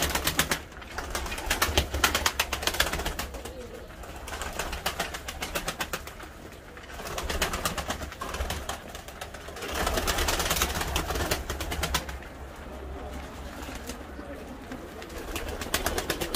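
Pigeons coo in a continuous low murmur, several birds close by, with faint rustling and occasional wing flaps.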